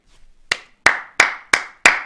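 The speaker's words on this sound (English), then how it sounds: "That's supposed to be like a regular clap" Five sharp single hand claps in a steady, evenly spaced rhythm, close and loud, with a brief quiet lead-in and no talking.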